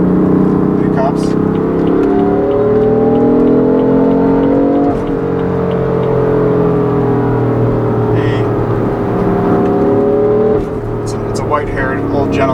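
A tuned 2016 BMW M3 with a DCT gearbox and mid-pipe accelerates hard, its engine note rising loud and sustained with shifting harmonics and occasional brief drops between gears.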